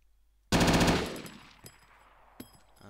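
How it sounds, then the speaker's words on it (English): A short, loud burst of rapid automatic gunfire from an L7A2 machine gun in the video game ArmA 2: Operation Arrowhead, then a fading echo and a couple of distant single shots. "You have the machine gunner, which basically has a replica of the M240, but it's called the L7A2."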